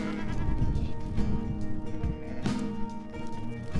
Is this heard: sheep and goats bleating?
yes